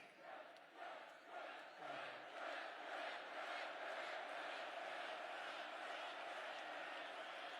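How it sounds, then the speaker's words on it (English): A feisty crowd cheers and roars at a political rally in Allentown, a loud, sustained swell of shouting and whooping voices that builds in waves and then holds steady. "This is a feisty little crowd, isn't it?"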